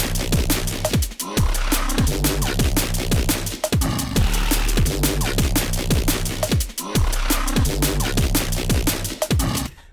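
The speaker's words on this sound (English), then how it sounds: "today we're going to make a Chub Wub bass in Vital, which sounds like this" Chub Wub neurofunk bass synth patch built in Vital, a dense, aggressive and continuous bass riff with a tight rhythmic pattern and punchy hits, loud and alone with no voice.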